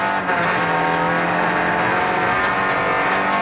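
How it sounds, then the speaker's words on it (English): A rally car's flat engine roars loudly and continuously up close at a 1997 Rally Queensland event, its steady drone running rough with uneven, sputtering pulses. "But the sound of a flat engine was bad news."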